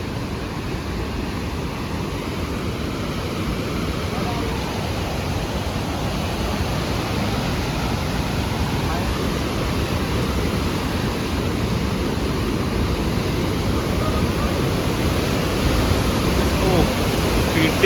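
A river in Kasol during the monsoon rushes steadily past, a dense, unbroken wash of flowing water close by that holds an even level throughout, swelling slightly near the end.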